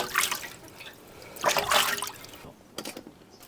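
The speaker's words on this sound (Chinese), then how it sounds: "洗一下看一下菜根里面有没有脏的东西，这个稍微清洗一下就好" Vegetables are rinsed under running water in a rural Chinese home kitchen, close splashing and trickling in a few uneven bursts with a quieter stretch between, no talking.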